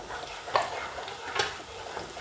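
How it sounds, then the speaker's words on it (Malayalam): Ginger dropped into a hot pan for Kung Pao chicken, giving a soft, steady sizzle with a couple of brief stirring scrapes, close and fairly quiet with no talk. "അതിൻ്റെ കൂട്ടത്തിൽ തന്നെ ഞാൻ ഇഞ്ചി ഇടുകയാണ്."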